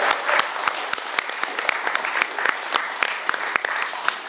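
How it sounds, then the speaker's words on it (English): An audience at a political talk at Camp Constitution applauds steadily, dense clapping filling the room at a strong, even level for several seconds. "Give yourselves a nice round of applause."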